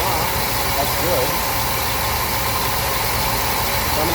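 A 1977 Pontiac Trans Am's engine idles with a steady, close rumble, its AC compressor cycling on and off, while a voice talks over it.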